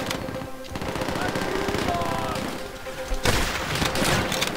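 Gunfire in the World War II shooter Call of Duty: World at War, with dense bursts of shots and loud impacts running continuously and a sharper, louder volley in the final second.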